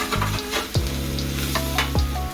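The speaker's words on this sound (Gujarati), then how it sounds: "મીઠું ને હળદર નાખ્યા પછી બરાબર મિક્સ કરીએ." Brinjal sabzi is stirred in a hot pan after salt and turmeric go in, with a close sizzle under a few quick scraping strokes of a spoon against the pan.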